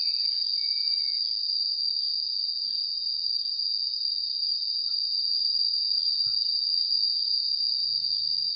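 A cricket chirps in one steady, high, unbroken trill, close and clear against an otherwise quiet background.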